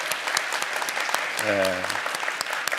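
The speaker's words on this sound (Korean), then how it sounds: "우리 한번 박수로 축복해 주시기 바랍니다" Church congregation clapping in blessing during a Sunday worship service, a continuous crowd applause with a brief voice or tone rising above it midway.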